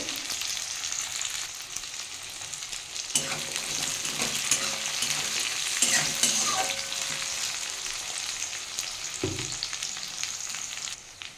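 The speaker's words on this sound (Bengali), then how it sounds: "একটু ভালো করে ভেজে নেব" Chopped onion and garlic fry in a pan with cumin for brinjal bharta, a constant close sizzle with soft stirring scrapes and a few clunks, no talking.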